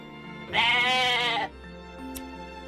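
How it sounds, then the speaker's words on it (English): A goat bleats once in the video game Atelier Ryza, a loud wavering cry of about a second, followed by quieter game music. "It's like they took like the default goat sound effect too"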